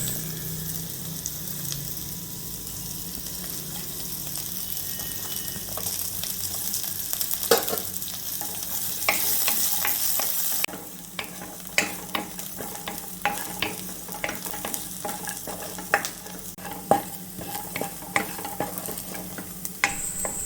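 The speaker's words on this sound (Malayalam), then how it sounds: "ഇനി ഇതിലേക്ക് നമ്മൾ എടുത്തു വെച്ചിരിക്കുന്ന സവാളയും ഇഞ്ചിയും വെളുത്തുള്ളി, ആ കാന്താരി മുളകും എല്ലാം നമുക്ക് ഇട്ട് കൊടുത്ത് ഇതിലിട്ട് നന്നായിട്ടൊന്ന് വഴറ്റിയെടുക്കാം" Onion, ginger, garlic and chilies sautéing in a pan, a steady sizzle with scraping spatula strokes, then a run of sharp repeated stirring clacks in the second half, close and without talk.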